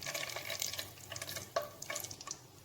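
Whole garam masala (bay leaf, cinnamon stick, cumin seeds, cardamom and cloves) hits hot oil and ghee, giving a steady close crackling sizzle with a few sharper pops and clicks and no voices.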